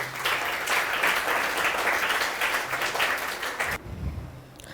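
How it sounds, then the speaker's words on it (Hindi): Loud, dense applause from an audience at a UPSC exam-preparation workshop honours a guest expert, sustained for several seconds before stopping abruptly near the end, leaving faint room noise. "जोरदार तालियां सर के लिए।"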